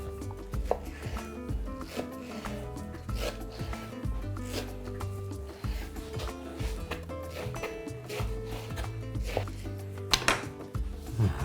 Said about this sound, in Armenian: սա կտրատում ենք խորանարդիկների